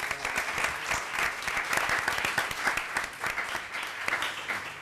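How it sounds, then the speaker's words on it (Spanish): A room of people at a school event claps enthusiastically, with individual sharp claps standing out in a lively, continuous round of applause. "me gustaría dedicaros un aplauso por lo bien que lo habéis hecho"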